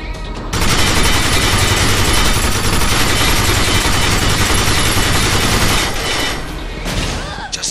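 Sustained automatic gunfire and heavy combat noise from the video game Binary Domain, a dense, loud barrage that runs almost without pause and drops off near the end.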